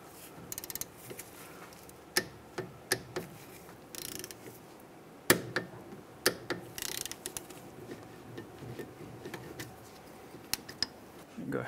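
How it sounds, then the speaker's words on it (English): Ratchet tightening the rear brake caliper bolts on a 2007-2015 Mazda CX-9, giving scattered sharp clicks and short bursts of ratcheting close by over low workshop noise, with no talk. "we'll torque these bolts down to 20 foot-pounds"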